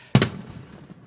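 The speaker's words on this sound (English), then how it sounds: "This is 1 minute of dumb fireworks." A single loud firework burst goes off close by, a sharp double crack followed by a short rumbling tail, with no voices.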